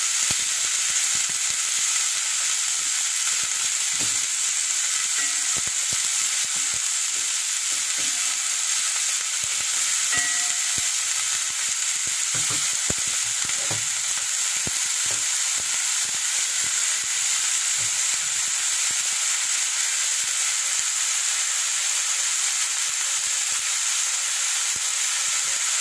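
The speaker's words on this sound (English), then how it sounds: "I'm going to stir fry this very briefly for about 2 minutes." Onions and eggplant sizzle steadily in hot oil in a wok-style stir fry, a dense continuous hiss with scattered faint pops and occasional scrapes of stirring, close and even throughout.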